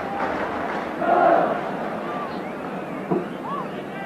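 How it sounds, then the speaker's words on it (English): A football crowd at a Spurs match in an old stadium chants and cheers from a distance, a broad rolling roar that swells briefly, with a commentator talking over it. "Now shouting, there's only one Ardiles"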